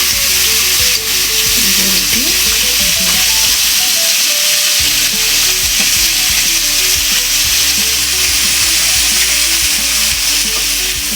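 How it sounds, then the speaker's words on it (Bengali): Cauliflower fries in hot oil in a pan, a loud, unbroken sizzle and crackle close up, with occasional stirring scrapes and no talking. "ফুলকপি ভাজা হচ্ছে"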